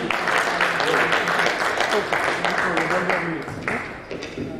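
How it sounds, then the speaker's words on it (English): An audience claps to welcome a speaker onto the stage at a conference event, a steady broadband patter of hands lasting several seconds, with voices murmuring underneath before it thins out near the end. "So please clap and welcome him to the stage."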